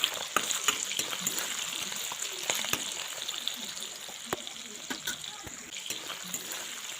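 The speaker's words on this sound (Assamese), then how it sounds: "লৰাই থাকিব লাগিব, লৰাই সিজাই ল'ব লাগিব" Homemade chicken pickle fries and is stirred in a pan, a continuous close sizzle broken by repeated scraping and clinking strokes of the spoon, with faint watery bubbling.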